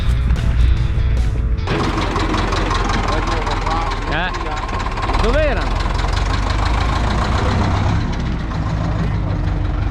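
A Piaggio Ape three-wheeler engine runs nearby on a vineyard farm, a low steady chugging rumble with knocking pulses throughout, while people talk over it.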